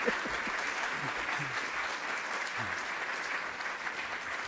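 An audience at an English language teaching innovation awards ceremony applauds the winning entry with steady, moderately distant clapping that continues evenly throughout, with faint voices underneath.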